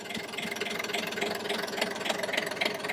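A Freedom 40/40 sailboat's engine idles steadily after a cold start from two weeks unused, a continuous close mechanical drone with faint knocking texture and no talking.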